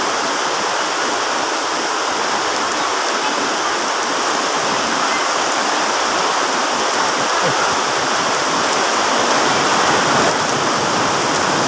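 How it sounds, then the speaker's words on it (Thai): Heavy rain pours down in a dense, constant roar, loud and close throughout with no pauses. "ครับฝนตกแรง"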